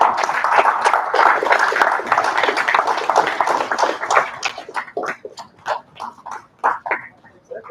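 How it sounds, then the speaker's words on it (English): Audience at an SAE India award ceremony applauding, a dense round of clapping that thins into scattered individual claps as it fades out. "Round of applause."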